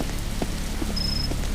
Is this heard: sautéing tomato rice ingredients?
no